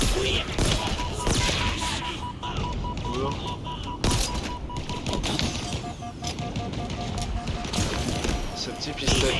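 Small pistol firing in Halo Infinite, quick cracking shots scattered through busy game noise and effects, with a voice talking over the action.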